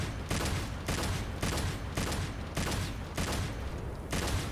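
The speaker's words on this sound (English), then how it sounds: "Gunfire." Rapid gunfire bursts from the video game Devil May Cry 5 arrive in about six evenly spaced volleys, each loud, dense and sustained, separated by short gaps.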